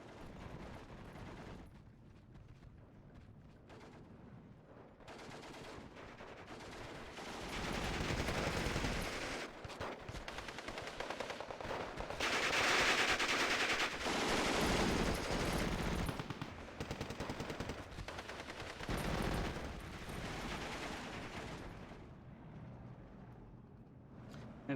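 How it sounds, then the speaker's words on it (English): Machine gun fire from a Maxim in Steel Division II, rapid bursts of gunfire swelling and fading through a rumbling battlefield mix with distant explosions, alone without talk. "Machine gun still shooting"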